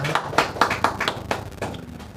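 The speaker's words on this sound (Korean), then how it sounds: "우리 예배를 받으신 하나님 앞에 영광의 박수 올리겠습니다." A church congregation at an Advent Sunday worship service gives a short burst of applause, with separate, fairly loud handclaps in an uneven rhythm that thin out toward the end.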